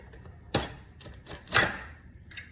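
A knife slices through peppers on a cutting board, rocked back and forth, giving a few distinct sharp chops with quieter scraping between them, close and fairly loud with no talk.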